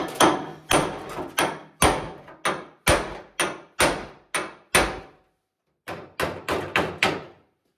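Dented body panel on a wrecked 1966 Pontiac is hammered out in a run of sharp, ringing metal blows, about a dozen strikes at an even pace, a short pause, then five more quick taps.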